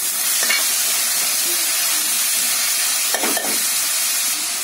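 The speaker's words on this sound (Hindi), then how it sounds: "हमें सब्जियों को तेज आंच में भूनना है।" Vegetables for veg noodles stir-fry on a high flame, giving a steady, loud sizzle throughout with a couple of brief scraping stirs, and no one talking.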